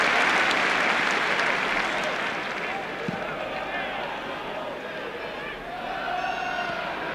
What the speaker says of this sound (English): One roar after the other with this crowd today as Story tucks it back